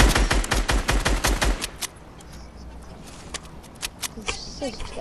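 Rapid automatic gunfire in the video game Fortnite, a loud burst of closely spaced shots for over a second, then sparse distant pops while players talk over it.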